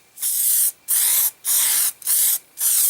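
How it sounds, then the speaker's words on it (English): Five sharp bursts of spray adhesive hissing from an aerosol can while preparing sandpaper for knife sharpening, each about half a second long with brief gaps between, close and loud with no talking. "the best way to get this to stick is just"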